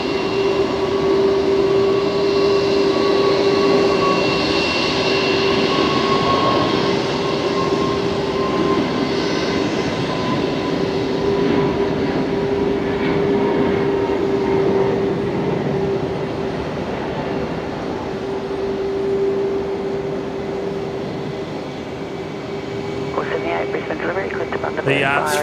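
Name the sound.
Airbus A321neo jet departing Brisbane Airport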